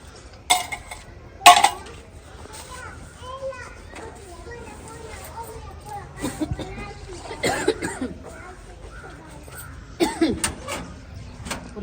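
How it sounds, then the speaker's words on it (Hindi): Dishes, pots and utensils are washed in a village kitchen, with scattered clinks and knocks of metal under ongoing speech and children's voices in the background. "साथ में ये बर्तन है ये भी धो देती हूँ।"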